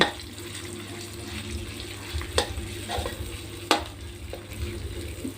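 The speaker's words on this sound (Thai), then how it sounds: "พริกแกงลงไปผัดเลยค่ะ" Thick, fluffy curry paste for a stir-fried bean dish is worked around a pan over medium heat, a steady low sizzle broken by a few sharp spatula scrapes and knocks, with no talking.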